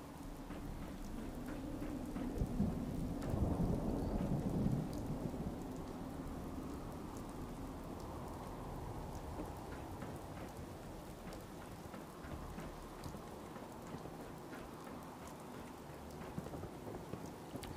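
Steady rain with a low thunder rumble in the video game Fallout 4 at night, a continuous soft hiss of falling water with a deeper roll swelling early, fairly quiet and without talk.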